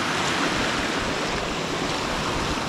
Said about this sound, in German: Ich stehe direkt am Fluss, am Bach, am Gebirgsbach,